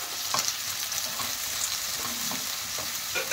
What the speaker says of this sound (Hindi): प्याज को हल्का सा भून लेंगे